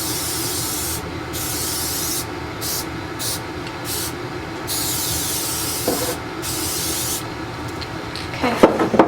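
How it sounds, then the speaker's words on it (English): Repeated hissing bursts of an aerosol spray can, several short sprays spaced apart, close by with a faint background hum. "grab my spray"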